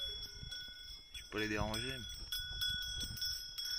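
Bells worn by grazing livestock ring in the mountains, a few bright clanks mixed with a bleating animal call and someone speaking French in the foreground.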